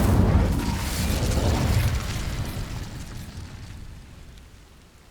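An Incendio fire spell sets dry vines alight in the game Hogwarts Legacy. A loud, roaring burst of flame hits first, then a crackling whoosh that slowly fades over several seconds.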